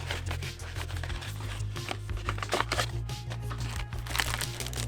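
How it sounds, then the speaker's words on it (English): An envelope holding paperwork rustles and crinkles as it is handled while unboxing a KUU Lebook Pro 2-in-1 PC. The papery crackling runs steadily and close over a low background hum, with no speech. "Underneath, we have an envelope with some paperwork inside of it."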